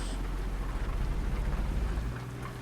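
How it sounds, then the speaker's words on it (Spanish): Heavy rain falls on a truck, a dense, steady patter of drops on the vehicle with a low rumble underneath. "vamos a poner los limpiadores porque sí está lloviendo fuertecito"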